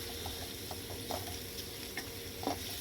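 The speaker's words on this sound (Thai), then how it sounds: "ใส่น้ำมันลงไปค่ะพอประมาณนะคะ แล้วก็เอาหมูสับของเราลงไปผัดผัดเลยนะคะ" Minced pork is stir-fried in oil, giving a soft, steady sizzle with light scraping taps from the stirring, close and fairly quiet, without voices.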